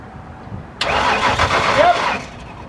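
An old car's engine, dormant for 15 years, cranks briefly and catches, settling into a loud, close, steady rough idle that then fades slightly.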